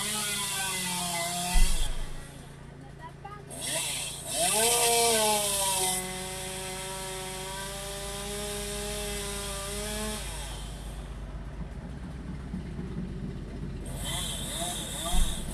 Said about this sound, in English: I don't like the sound of chainsaws.